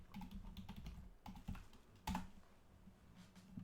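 Quiet, close typing on a computer keyboard: a short burst of quick key taps, a pause, then a few more presses and a sharper keystroke near the end, with no voices.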